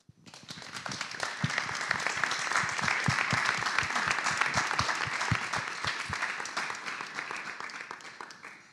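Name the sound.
audience applause for panelists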